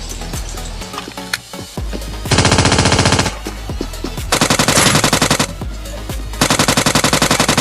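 Automatic gunfire in the Scarfall 2.0 mobile shooter on the Mumbai map: scattered single shots and clicks, then three long, loud sustained bursts of rapid fire close by.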